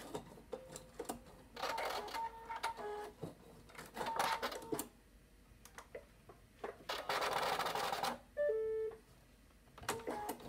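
A sewing machine stitches a backstitch on a small bib apron in bursts of rapid mechanical whirring, with pauses and clicks between runs, close and alone.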